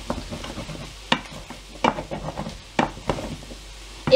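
Potatoes and onions for a Spanish tortilla fry in a pan, a soft, close sizzle broken by repeated scraping stirs of a utensil against the pan at an uneven rhythm, with no voices.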